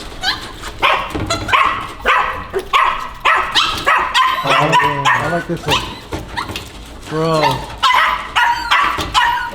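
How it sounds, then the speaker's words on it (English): Puppies found near a building holding dog food bark, yip and whimper in repeated short bursts close by, mixed with excited talking over them. "I can't believe we just found puppies here."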